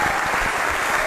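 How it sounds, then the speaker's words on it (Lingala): A concert audience at a 1999 event breaks into applause for the associations and fan clubs, a dense, continuous roar of many hands clapping at once. "Nous allons donc applaudir pour toutes les associations."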